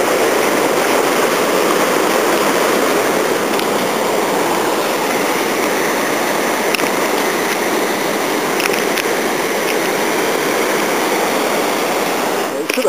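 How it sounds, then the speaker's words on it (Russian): Steady broadband rush of a forest waterfall and stream at Nelson Lakes, loud and continuous throughout, with no clear voices over the constant roar of falling water. "Это водопад."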